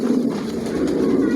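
Racing pigeons in a loft coo in a low, continuous murmur that holds steady and fairly close for the whole stretch.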